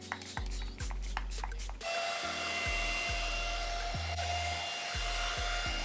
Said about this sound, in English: speed up the drying process with my fan